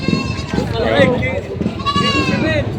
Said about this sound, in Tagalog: Ito yung mga kambing nila dito na mga pampenta pa.